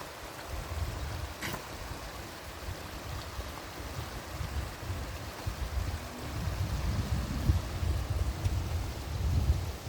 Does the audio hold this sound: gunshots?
no